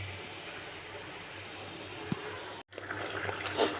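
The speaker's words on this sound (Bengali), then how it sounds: "এটাকে জল দিলাম" Water is poured into a cooking pot of sour fish curry with mango, after the fish has been fried. A soft, steady rush of liquid runs close by, broken by a brief cut and followed by a fuller splashing gush.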